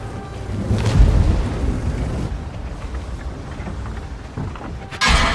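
A French AMX 30 medium tank firing its gun in World of Tanks, with deep booming blasts and rumbling impacts rolling over a dense, noisy battle backdrop, and a sharp burst near the end.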